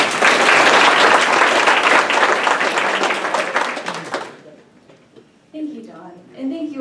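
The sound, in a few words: audience applause for guest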